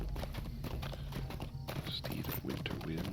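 Horses in the video game LOTRO, quick steady clip-clopping hooves with a whinny breaking through partway, close and brisk, with faint speech underneath.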